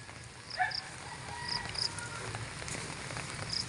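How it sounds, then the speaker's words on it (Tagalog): Steady heavy rain falls without pause on surfaces outdoors, a dense continuous hiss with scattered drips and faint distant bird calls, no voices. "Walang tigil na ulan."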